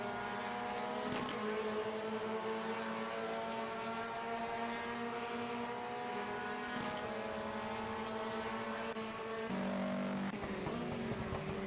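Several 1973 British Formula 3 race cars roar steadily through a British Grand Prix circuit, with engines droning and harmonics shifting as they pass. The sound is loud and sustained, and a brief whoosh suggests a car passing closer by.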